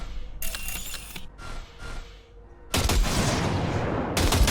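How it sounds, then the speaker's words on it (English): Bursts of gunfire from a weapon in Cyberpunk 2077: a short rattling volley, a pause, then a longer sustained stream of loud, close shots filling the second half. "Fire a short burst into it."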